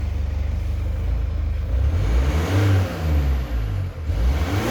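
A 2014 Mercedes-Benz C220D AMG diesel engine revs up in a few loud, close blips, its low growl swelling and dropping with a brief dip between rises.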